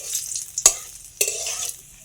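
Whole cumin seeds and dried red chilies tempering in hot oil for a vegetarian fig curry, giving two sharp bursts of spitting sizzle over a low crackle, close and alone without any voices.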